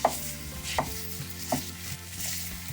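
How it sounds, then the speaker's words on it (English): Sausage being chopped up in a frying pan while it cooks, a few spaced scraping chops over a soft sizzle, close and fairly quiet. "Just chopping it up real fine."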